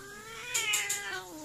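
An angry pet cat gives a short, strained yowl, loud and close, with a harsh rise in the middle. Nothing else is heard around it.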